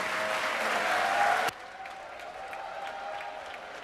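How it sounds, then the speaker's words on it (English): Applause fills a state legislative chamber, a dense burst of clapping from the assembled members that cuts off abruptly, followed by quieter room sound and scattered faint claps. "Let's give him a big round of applause,"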